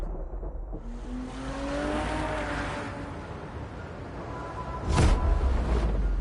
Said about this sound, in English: Choose between the Bugatti 1038 and the Koenigsegg Jesco and race through downtown